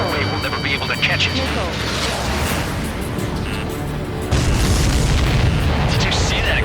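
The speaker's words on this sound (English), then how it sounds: "Did you see that explosion? Looks like that's one of them down." A supply ship explodes in the Ace Combat 7 mission Homeward, a sustained deep booming rumble with layered blasts that swells louder partway through, heard under faint overlapping game noise.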